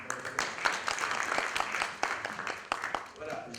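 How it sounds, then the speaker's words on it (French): Audience applause at a conference on research and training in Moroccan medical and pharmacy faculties, a steady moderate patter of many hands with distinct louder claps, fairly distant, with a voice briefly audible under it. "je pense qu'il faut l'applaudir"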